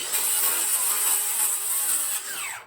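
A circular saw cutting through wood in a home shop, a steady loud high-pitched whine of the blade biting for about two seconds before it eases off as the cut finishes.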